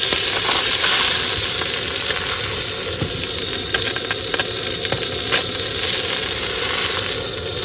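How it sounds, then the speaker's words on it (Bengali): Potatoes fry in oil left over from frying fish, cooked outdoors beside a creek on a rainy day, a loud, continuous sizzle with occasional stirring clicks and pops. "আর এই মাছ ভাজার তেলে কিন্তু এখন আলুগুলো ভেজে নেবো।"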